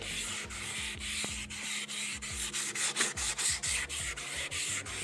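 Repeated straight-line sanding strokes on a car headlight lens during restoration, a steady rhythmic rasping rub about twice per second, close and fairly loud, with no talking.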